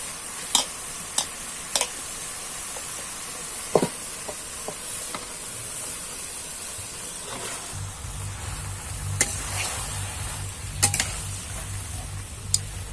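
Beef tripe sizzles in hot spiced oil with whole garam masala, a steady frying hiss running throughout, broken by sharp clicks and taps of a spoon stirring against the pan, close and fairly quiet.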